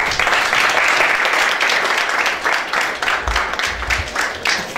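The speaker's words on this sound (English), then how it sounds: "One round of applause, please." Loud, dense audience applause for a student group after its final presentation at a 2019 techathon in Gostivar, a full roar of clapping that eases slightly toward the end with some low thumps.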